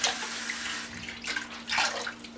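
Warm water runs steadily from a tap as a cloth is wetted before a traditional wet shave, a continuous close splashing rush that swells briefly near the end.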